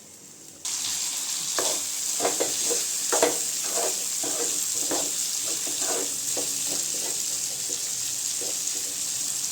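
Chicken liver varuval frying in a pan, a continuous sizzle with repeated scraping stir strokes, close and steady throughout.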